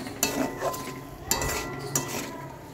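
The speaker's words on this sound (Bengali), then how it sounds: "ভালো করে মশলাটাকে আমি কষিয়ে নিচ্ছি তেলের মধ্যে।" Spices are stirred in hot oil in a pan while cooking cauliflower and potato, giving a low sizzle broken by three clear scrapes and clinks of a spoon against the pan.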